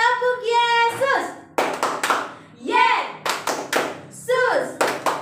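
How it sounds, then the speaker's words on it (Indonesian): Children clap hands together in rhythmic bursts at a Sunday school service, the sharp claps alternating with an adult leader's sung or spoken chant at close range. "Yuk tepuk Yesus dulu sama-sama ya"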